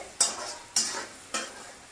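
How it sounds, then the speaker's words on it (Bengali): Onion frying in a pan for a cabbage and egg dish, stirred in three distinct scraping strokes about half a second apart, each with a bright sizzling hiss that fades between strokes. "পেঁয়াজটাকে একটু ভালো করে ভেজে নিতে হবে"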